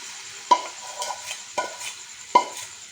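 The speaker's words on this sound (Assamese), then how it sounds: "ইয়াতে এতিয়া আমি দি দিম মেৰিনেট কৰি থোৱা আলু আৰু চিকেনখিনি" Marinated potatoes and chicken go into hot oil for sesame chicken, with a soft sizzle under three distinct clacks of a utensil against the pan spread over a few seconds, close and quiet.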